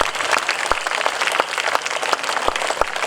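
A crowd claps continuously in appreciation of children who staged a Srinivasa Kalyanam dance drama in Ongole. The even wash of hand claps carries the occasional crisp, close clap, holding steady without voices over it.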